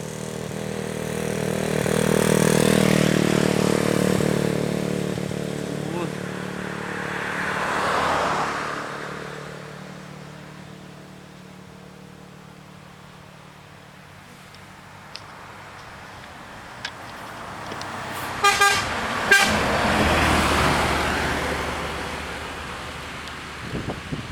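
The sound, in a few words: NPM Sultan Class bus departing, engine and horn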